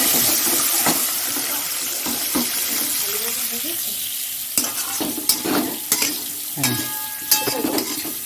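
Eggs fry in oil seasoned with salt and turmeric, a soft sizzle broken by sharp spatula clacks and stirring knocks, with running water and faint background voices.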